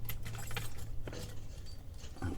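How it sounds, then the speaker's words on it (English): Keys jangle in a camper, with small close metallic clinks and rattles against a low background hum as they are set down. "Okay, put my keys there."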